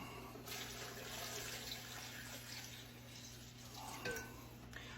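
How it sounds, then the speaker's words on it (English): Water pours into a pot of beef stew with vegetables, a soft steady splash and trickle with a light clink of the pot near the end, heard close and quiet. "And we're gonna add a little water."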